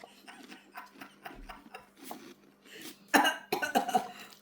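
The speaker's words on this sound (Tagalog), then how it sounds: "Ubo." Several short coughs during a casual Tong-its card game among friends, a few soft ones early and then a louder burst of close coughing near the end, with quiet room noise between.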